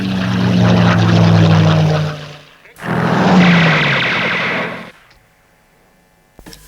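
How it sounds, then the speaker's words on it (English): Formation of F-18 jets from Williamtown RAAF base sweeping low over a city, heard as two loud roaring passes in quick succession, each building and fading, with a quieter tail and no talk. "a formation of F-18s from Williamtown RAAF base swept over the city"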